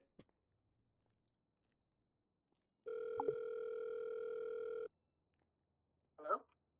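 After a dropped call, a telephone dial tone sounds: a steady, unbroken tone lasting about two seconds, framed by near silence, with a brief voice fragment just after.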